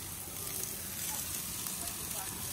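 Meat sears on a hot grill with a dense, steady sizzle and crackle that carries close and even throughout.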